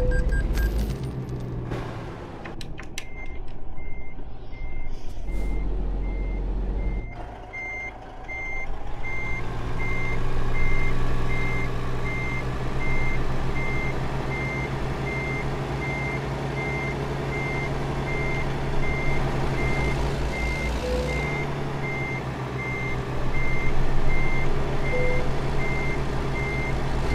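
A truck in American Truck Simulator reverses with a steady, evenly spaced electronic beeping that runs almost throughout, over a continuous engine drone with brief hisses and clunks.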